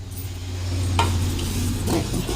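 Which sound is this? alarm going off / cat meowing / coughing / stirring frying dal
stirring frying dal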